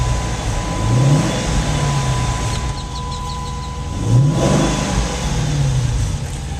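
A 2010 Dodge Challenger SRT8 V8 idles with a deep rumble and revs twice, each rev swelling and falling back. The sound is close and steady, with a faint high whine underneath.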